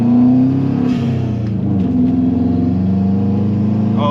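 Subaru WRX engine droning loud and steady for about four seconds on a cold day, a rich low rumble that holds under acceleration with no talk over it.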